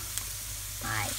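Sliced onion and mushrooms saute in a pan, giving a continuous close sizzle that swells as the pan is stirred near the end.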